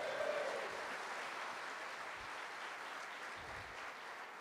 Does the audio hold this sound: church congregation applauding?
yes